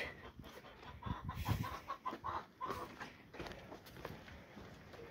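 Hens cluck intermittently at close range on a highland farm during egg collecting, with soft rustling and shuffling movement in the background.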